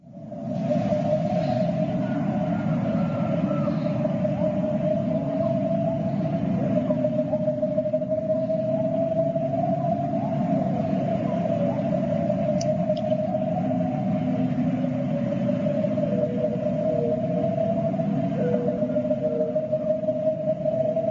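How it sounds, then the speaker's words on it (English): A continuous, eerie drone presented as a plasma recording from Kepler-62, with a low rumbling bed and a sustained wavering tone above it. It stays steady and moderately loud throughout, with no voices. "This is Kepler 62, another recording of a plasma sound that came through."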